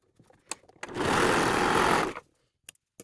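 A sewing machine runs in one close, loud burst of about a second while sewing the waistband of hoodie-set joggers. Quiet handling clicks come before and after.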